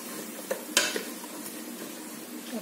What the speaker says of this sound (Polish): I to wszystko nam się smaży.